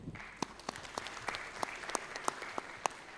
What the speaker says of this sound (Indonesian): Kabupaten Kota ex Karisidenan Semarang, boleh tepuk tangan.